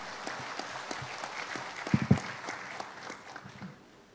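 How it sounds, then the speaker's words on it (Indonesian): Audience applause at a political gathering for Anis Matta, a dense steady clapping from the crowd that runs through the whole stretch at moderate level, with a couple of louder claps near the middle. "Kita berikan aplaus untuk Bapak Anies Mata."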